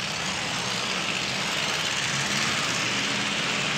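Dirt track race car engine at a season-opener race, laboring through heavy mud with a steady, muffled, droning roar that holds constant and loud throughout.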